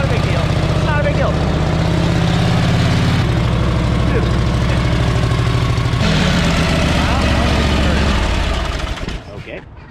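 A Harley-Davidson Duo-Glide Panhead engine idles on its first start, loud and close, with a steady, lumpy low rumble that keeps going before dropping away in the final second.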